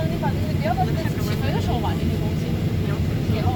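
United Airlines Boeing 737-900ER taking off from Orlando on a sunny day, a steady, loud broadband roar heard from inside the cabin with faint voices mixed in.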